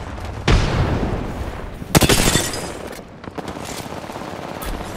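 A thermite grenade goes off amid gunfire in the Apex Legends battle royale game: loud bursts of rapid shots with sharp impacts and a hissing burn, close and dense, no talking.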